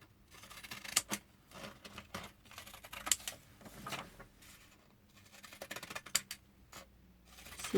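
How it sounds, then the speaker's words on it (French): Pinking shears snip through paper card in a quiet room, giving a series of crisp, close cutting crunches that arrive in irregular bursts with short pauses between them. "Et oui, encore mes ciseaux cranteurs."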